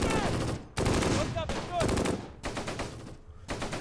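Bren gun section machine gun fire in the Close Combat: Gateway to Caen war game: repeated loud bursts of rapid fire in several separate strings, close and sharp, with faint talk in between.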